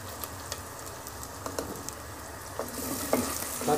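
Onions with cumin and whole dried coriander seeds frying in a pot for a mutton handi, giving a close, steady sizzle with faint stirring clicks that grows louder toward the end.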